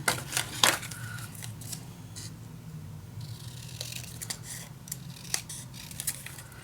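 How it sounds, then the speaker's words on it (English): Scissors snip through craft paper for a Sherlock Holmes-themed scrapbook storage unit, a few quick close cuts at the start followed by lighter rustling and sporadic snips, no talking. "Let me just cut this quickly"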